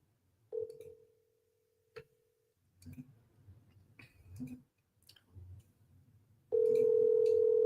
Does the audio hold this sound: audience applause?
no